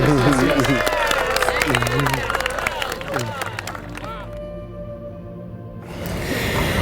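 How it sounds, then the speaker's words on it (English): Guests at a Four Seasons wedding reception clap and cheer amid crowd chatter and music, the applause loud at first and then thinning out into a quieter hum of the room before rising again. "That deserves applause."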